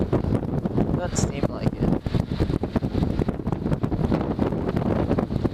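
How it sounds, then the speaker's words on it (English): Strong outdoor wind buffeting a microphone during a bike ride, a constant low rumble with gusting surges, while someone talks briefly over it. "A lot of wind."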